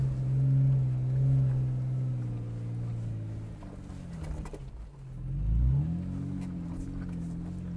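A Jeep Wrangler JKU climbs an off-road hill, its engine droning steadily and close before dipping, then revving up again under load.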